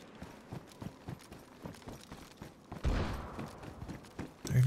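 Gunfire in the video game DayZ, close by, with a string of sharp rapid shots followed by a louder, broader burst like an explosion near the end.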